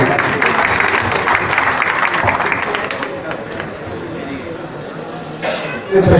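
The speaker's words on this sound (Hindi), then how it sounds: "जोरदार तालियों के साथ स्वागत करें।" A crowd at a Congress leader's office inauguration in Mustafabad, Delhi, applauds to welcome a speaker, with loud dense clapping and babble that gradually fades, then a brief bump of noise at the end.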